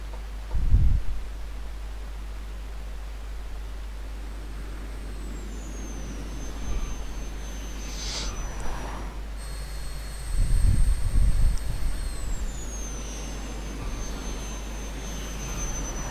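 Aircraft flying in and landing in GTA 5: a steady, roaring engine drone with whining tones sliding downward, plus heavier rumbling bursts at the start and again around the touchdown. No speech.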